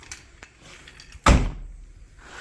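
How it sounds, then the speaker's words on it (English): A Honda Civic 8th gen car door shut once with a sharp, close thud after a few faint handling sounds, followed by a brief low rumble, with no talk. "So close the door."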